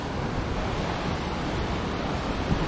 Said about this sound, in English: you can see that river stream is how it is coming